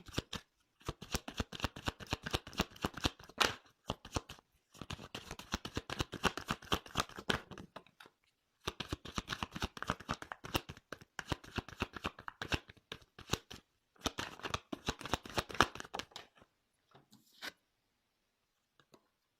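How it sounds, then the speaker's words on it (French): Tarot cards shuffled and drawn by hand, close and crisp, in repeated rapid riffling bursts separated by short pauses, fading to a few quiet taps at the end. "j'ai tiré la carte de la loi et la carte de la sexualité"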